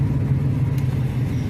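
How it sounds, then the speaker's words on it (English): A car engine running rough and misfiring, a close, low, uneven rumble with irregular pulsing rather than a smooth idle, heard alone for a moment. "Misfiring is what it's doing."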